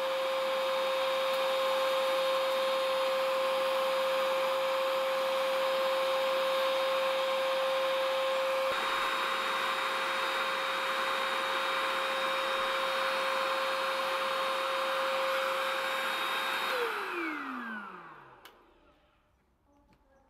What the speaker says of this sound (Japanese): 音は普通の掃除機ぐらい結構大きめの音するんで